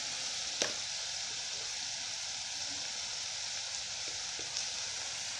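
Onions frying in hot oil, a steady soft sizzle running throughout with a few faint clicks and stirring taps, fairly quiet and close.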